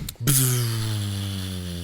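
A voice imitates a plane going down: a short gasp, then a long sustained droning hum that slowly sinks in pitch, close and fairly loud.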